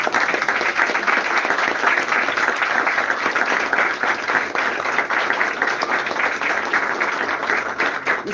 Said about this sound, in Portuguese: As palmas.